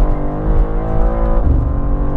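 The engine of a 2023 BMW M2 G87 revs loudly close by, a deep, rich exhaust note rising and dipping over about two seconds with no talking.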